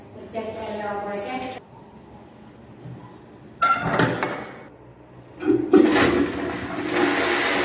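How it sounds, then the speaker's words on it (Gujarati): Tap water running at full pressure on the second floor of a house, rushing in bursts that stop and restart, with a clear voice talking between the bursts. "પાણીનો પ્રેશર ચેક કરો. ફૂલ પાણીનું પ્રેશર આવશે."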